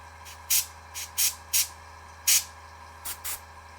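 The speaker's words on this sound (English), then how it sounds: "I'm spraying at 40 PSI" An airbrush spraying paint at 40 PSI gives short, crisp hissing bursts, about eight in irregular rhythm, close and clear over a low steady hum.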